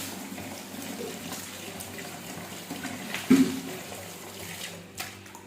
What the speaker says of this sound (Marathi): त्याची भरपूर पाण्यामध्ये धुवून काढायची.